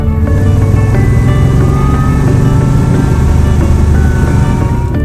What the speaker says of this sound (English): you only have to tickle the throttle to be catapulted to some ludicrous speeds